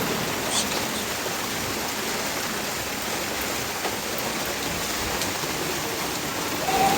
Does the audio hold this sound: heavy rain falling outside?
yes